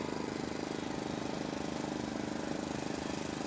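A Husqvarna 372 chainsaw engine idles steadily with a fast, even two-stroke putter, close and constant throughout, with no talk over it.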